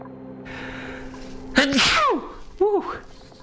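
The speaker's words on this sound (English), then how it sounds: "That was a sneeze" A cartoonish duplicant in the space colony game Oxygen Not Included lets out a sneeze with a rising pitched wind-up and burst, then a smaller squeaky follow-up sound, over a soft musical game backdrop.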